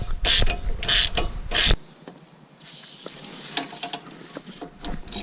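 A ratchet wrench turning a bolt on a Dodge Caliber SRT-4's front left strut during a coilover install, with three loud rhythmic ratcheting pulls up close followed by softer clicking and mechanical rattling.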